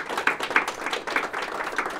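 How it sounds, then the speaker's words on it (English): An audience applauds panelists after a panel discussion on the Electoral College, with dense, steady clapping from many hands filling the room at moderate loudness throughout. "Please give the panelists a round of applause again."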